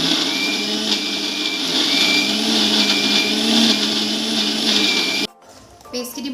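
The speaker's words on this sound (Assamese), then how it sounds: "এতিয়া মই মিক্সাৰ দি এইখিনি পিচি পেষ্ট বনাই ল'ম" A mixer grinder whirs loudly and steadily as it grinds cooked chicken tikka into a paste, running for about five seconds before abruptly switching off, with faint rattles afterwards.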